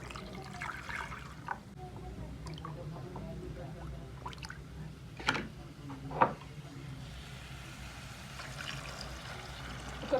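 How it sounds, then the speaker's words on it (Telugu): Water from a mixer jar is poured into a cooking pot of drumstick dal, a soft trickling splash at close range with a few louder clatters and faint background noise. "ఒక గ్లాస్ వాటర్ అయితే వేస్తున్నాను నేను."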